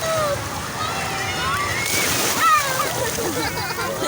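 Sea water splashes and sloshes steadily at a beach during a summer outing on choppy water, a close, continuous wash of surf with people talking over it.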